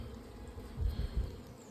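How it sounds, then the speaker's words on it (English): Honeybees buzz around an open Layens hive on a farm during a hive inspection, a steady low hum with a couple of slightly louder swells as bees pass close by. "So certainly lots of bee activity"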